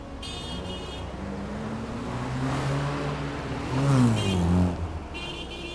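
A car accelerates away, its engine note climbing and swelling to a loud rev before easing off, with short high tooting tones at the start and end.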